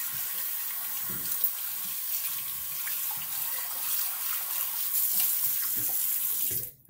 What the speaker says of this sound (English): I just rinsed the suds off the side.